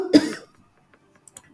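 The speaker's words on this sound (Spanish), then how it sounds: "Perdón, estoy tosiendo muy seguido." A single short, sharp cough up close, followed by near silence with a couple of faint small noises.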